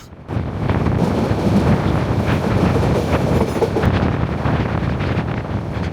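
The Parjotak Express train from Dhaka to Cox's Bazar runs loudly on the rails, a constant heavy rumble and clatter mixed with gusty wind buffeting the microphone.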